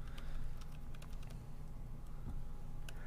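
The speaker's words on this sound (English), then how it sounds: "I'm just typing in" Quick, light keyboard taps scattered across a steady low hum, soft and close, with no talking.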